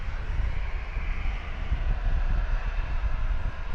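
An Air New Zealand 787 Dreamliner taxiing at Brisbane Airport, a steady loud jet engine rumble with heavy low-end roar and wind buffeting and no breaks.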